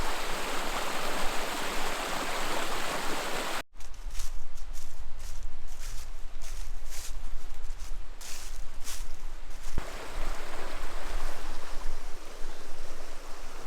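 Constant rushing wash of a cold creek flowing past a campsite, broadband and steady throughout, briefly interrupted by a sharp cut and a few crunchy, step-like noises in the middle before the even flow resumes.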